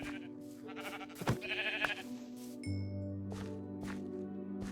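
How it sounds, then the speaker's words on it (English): Sheep bleating in the video game Minecraft, a few short bleats in the first two seconds over steady game background sound and a low drone. "Alright, sweet sheep."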